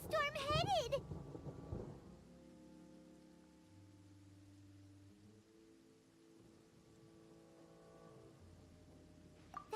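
Stormy rain pours steadily in the video game Genshin Impact, with a brief voice at the start and low, sustained musical tones underneath.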